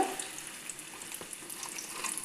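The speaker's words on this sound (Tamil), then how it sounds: "எண்ணெய் சூடாகிட்டு இப்போ எடுத்து வச்சு மீனை போட்டுக்கோங்க" Fish frying in hot oil on a tawa gives a steady, quiet crackling sizzle with scattered small pops, heard close and without any talking.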